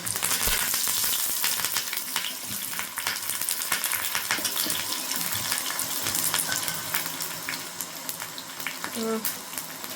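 Mustard seeds and curry leaves fry in hot oil for tempering tomato chutney, a loud continuous close-up sizzle with crackling pops throughout.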